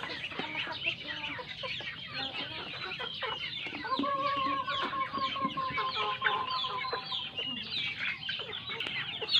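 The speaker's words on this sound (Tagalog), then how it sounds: "Mga Rhode Island, papaitlugin namin to guys." A flock of Rhode Island Red chickens clucks and squawks continuously nearby, a busy, overlapping chatter of hens at moderate volume.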